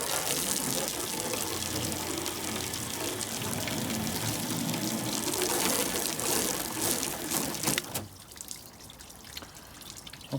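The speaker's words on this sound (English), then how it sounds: "that water is definitely running off the car there" Water sheets off car paint freshly coated with Autoglym Rapid Aqua Wax, a steady hissing rush that runs evenly and then thins out abruptly toward the end.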